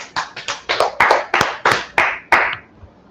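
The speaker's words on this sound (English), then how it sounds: "Clap it up for the class." Close, loud handclaps ring out for a class in about nine firm, slightly uneven beats from what sounds like a small group, then stop abruptly with no talking.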